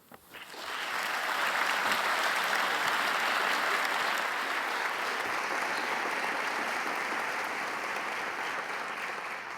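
An audience bursts into sustained applause at an evening lecture welcoming Professor Faber, the clapping swelling quickly and holding steady throughout, with no talking over it.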